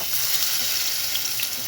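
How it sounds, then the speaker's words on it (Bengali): Pointed gourds coated in a flour and cornflour dough fry as dolma in hot oil, giving a steady, close sizzle and hiss with no pauses. "এক এক করে পটল লাগিয়ে লাগিয়ে গরম তেলের ভিতর ছেড়ে দিলাম।"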